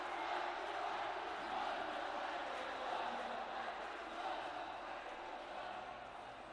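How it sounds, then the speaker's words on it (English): Crowd at an esports final (Snapdragon Pro Series) roaring and chanting steadily for a team, a dense wash of many voices heard from a distance that fades slightly toward the end. "Crowd getting heated up, getting riled up for Haiku Soul."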